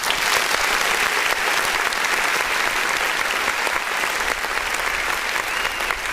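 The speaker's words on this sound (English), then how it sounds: "I want to give you a round of applause." A steady round of applause from an audience, dense and continuous at even loudness throughout, with no voices rising above the clapping.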